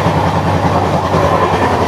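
A Shatabdi Express running from Puri to Howrah, heard from inside while standing aboard: a loud, steady rolling roar with a continuous clickety-clack of wheels over the rails, with no break.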